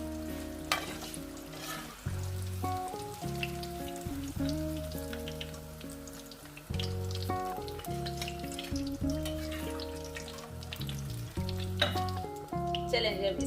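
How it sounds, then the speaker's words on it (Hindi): Eggplant slices fry in oil with a continuous, even sizzle that holds for the whole stretch, heard under steady background music. "बैंगन मैंने कतले किए हैं, जो भी काटे हैं, वो सारे इसी तरह से मैं फ्राई कर लूंगी।"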